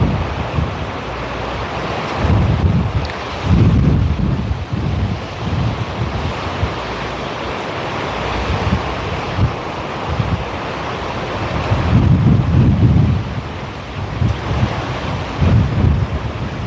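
Strong wind buffets the microphone in loud gusts on the coast between Waikiki and Diamond Head, Hawaii, with surf rumbling underneath.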